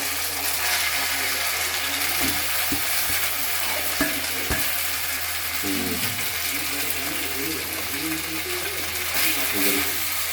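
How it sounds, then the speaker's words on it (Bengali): Noodles fry in oil in a pan, giving a constant, even sizzle throughout, with a few sharp clinks and light stirring knocks in the middle. "নুডলসগুলো তেলের ভিতরে ভাজবে হালকা।"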